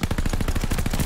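A DP27 machine gun fires in a video game, a rapid, loud, even burst of about a dozen shots in quick succession with no pauses.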